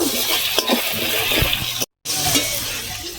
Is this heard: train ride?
no